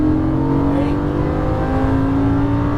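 A Lamborghini Gallardo on a Las Vegas track roars at full throttle, its engine holding a loud, steady, close-up drone with a strong sustained tone.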